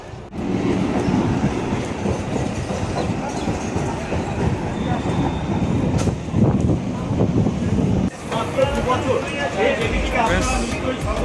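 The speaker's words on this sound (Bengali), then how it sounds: "ট্রেন ঢুকে গেছে আমরা এখন ব্যাসপুরের জন্য রওনা দিচ্ছি" A train rumbles steadily with rhythmic clatter of wheels, loud and close throughout, with a voice speaking over the noise.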